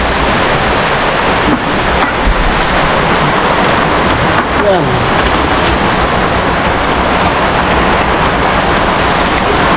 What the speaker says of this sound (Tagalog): Lakas ng ulan. Grabe oh.